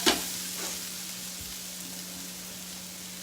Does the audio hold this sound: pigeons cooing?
no